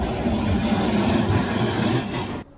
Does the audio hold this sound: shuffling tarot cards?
no